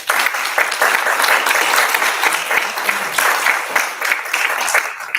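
An audience at a talk on AI, art and the ethics of creativity breaks into sustained applause, dense steady clapping filling the room throughout without pause.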